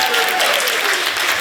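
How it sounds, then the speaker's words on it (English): Dense applause from a comedy club audience at a crowd-work stand-up show, steady and loud for the whole moment with no talk over it. "Clap it up."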